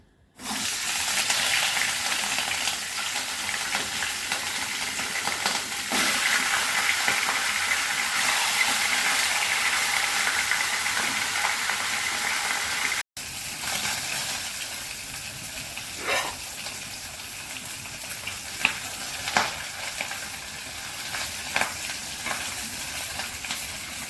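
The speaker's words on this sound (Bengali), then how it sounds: "এদিকে মাছের মাথাগুলো আমি ভেজে নিচ্ছি।" Fish heads frying in a pan for mung dal muri ghonto: a loud, continuous close sizzle of hot oil lasting throughout, with occasional clicks and utensil knocks.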